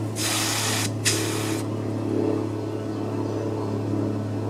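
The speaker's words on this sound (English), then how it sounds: "it's blowing out oil and gas out of there" A Husqvarna engine part sprays out oil and gas in a sharp hissing jet, two quick bursts of about a second each, loud and close over a steady low motor hum.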